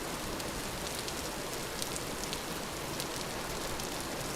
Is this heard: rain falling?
yes